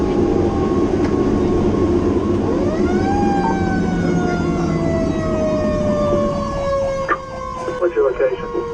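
A fire engine, Engine 5, wails its siren while responding, the rising and falling tone loud and close over heavy road rumble, then fading near the end as other sounds break in.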